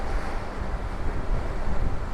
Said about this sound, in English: The wind is really picking up now. I said it was quite calm, it's actually getting quite choppy now.